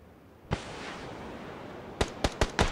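Video game gunfire in a squad shooter: one sharp shot, then a quiet stretch, then a rapid burst of four or five loud cracks near the end, with no talking.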